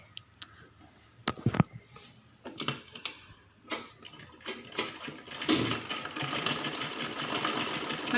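Sewing machine stitching a long girl's frock, its motor running in short, uneven bursts that turn into a steadier, louder whir toward the end, with light ticks and handling noises between runs.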